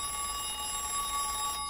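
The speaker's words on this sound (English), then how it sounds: "Not the phone ringing during the funeral." A telephone rings during a funeral scene in the film Wonka, a steady high electronic ringing tone that holds throughout, with no talk over it.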